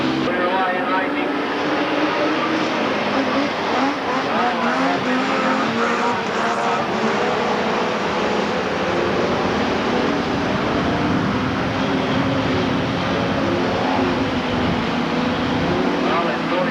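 Standard saloon race cars roar around Drouin speedway during a ladies state title race, a dense continuous blare of several engines with passing swells, while a commentator talks over the racing throughout.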